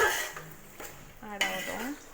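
Mushroom masala mixed in a pan for a mushroom biryani, with a few close metallic scrapes and clinks of a spoon against the pan in short bursts.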